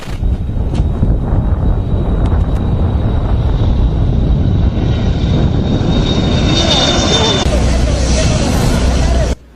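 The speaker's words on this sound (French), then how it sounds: "L'avion en provenance de Guinée équatoriale." Airplane arriving from Equatorial Guinea, a loud sustained engine roar with a whining tone, heard close over crowd babble and wind buffeting until it cuts off at the end.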